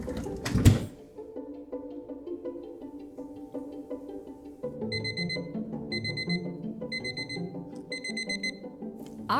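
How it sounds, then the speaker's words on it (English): A kitchen timer alarm sounds in repeated short bursts of rapid high beeping through the second half, after some clattering handling noises at the start, no talking. "As soon as the timer goes off, I'll take it out"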